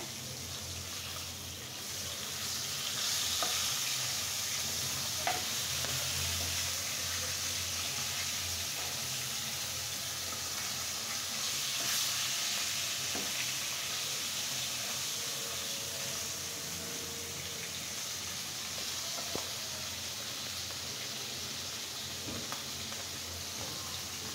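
Fish pieces fry in hot oil in a pan, giving a continuous, even sizzling hiss that holds at a moderate level with a few faint crackles and clinks.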